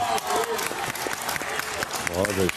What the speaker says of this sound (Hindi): सुदेश पाजी के लिए एक बार जोरदार तालियां